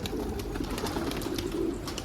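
Low cooing of a caught runaway pigeon, a soft throaty rolling call repeated close by and fairly loud, with no talk.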